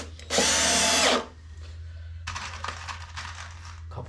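A power drill drives a screw into a French cleat in a workshop with one loud, close whir lasting under a second, then clattering handling noise and a steady low hum.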